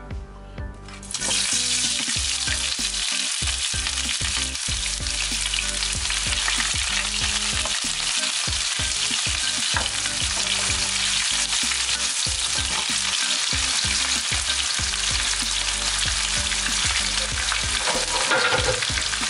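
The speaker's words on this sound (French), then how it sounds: "Là maintenant, je viens mettre des oignons dans l'huile." Onions dropped into hot oil for a vegetable rice dish burst into a loud, dense sizzle after a quiet second, then keep frying steadily and close up with scattered crackles and occasional stirring scrapes.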